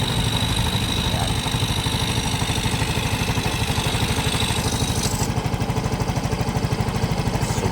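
Yamaha Mio Gear 125 scooter engine idling roughly and straining, a close, steady rapid pulsing chug with uneven firing, running continuously for several seconds without talk.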